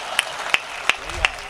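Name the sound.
audience applause at a Hindi comedy poetry show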